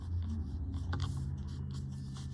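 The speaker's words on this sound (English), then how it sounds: "We can use just a little bit of charcoal pencil" A charcoal pencil shades and rubs across a gray Zentangle paper tile in soft, continuous scratchy strokes, close and quiet over a low background hum.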